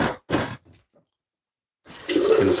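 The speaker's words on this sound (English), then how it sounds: "Just catching some water in the kettle." Water runs from a tap in short bursts, stops for about a second, then pours steadily and loudly into a kettle until the end.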